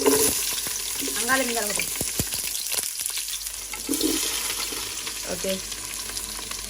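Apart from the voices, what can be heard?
onions frying and being stirred in a pan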